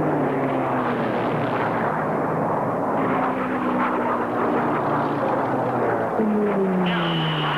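P-51 Mustang and Bearcat unlimited-class racing planes roar past at an air race, a loud continuous piston-engine drone with shifting, Doppler-like pitch sweeps as the aircraft pass close by.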